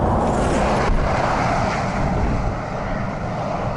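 Steady wind buffeting the microphone, a dense rushing roar that fills the whole clip with no voices.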